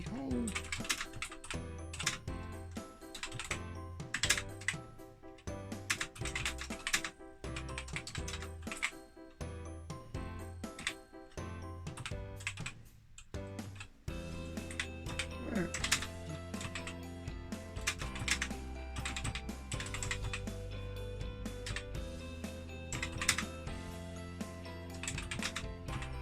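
An old BBC Micro computer keyboard with sticky, long-unused keys is typed on in a run of clicky keystrokes, while sustained musical tones sound loudly throughout and largely mask the tapping.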